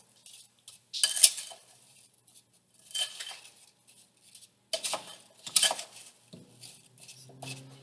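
Apple crisp ingredients are stirred in a bowl, a utensil scraping and clinking in short, scattered bursts separated by quiet pauses, close and fairly soft.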